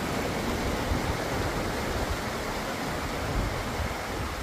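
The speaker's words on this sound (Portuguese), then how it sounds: "Essa aqui é a famosa Cachoeira do Arialdo." Arialdo waterfall in Olaria, Minas Gerais, roars as a dense, steady wash of falling water, loud and close, with no other sounds.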